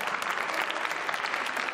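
An audience breaks into applause in a Bulgarian TV series, a steady, dense patter of many hands clapping throughout the short stretch.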